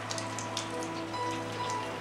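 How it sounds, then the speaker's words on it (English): Steady rain pattering on surfaces in a 1989 film scene from Say Anything, a dense continuous wash with scattered drop hits over a low constant hum, no voices. "Say Anything offers a fitting John Cusack rain scene"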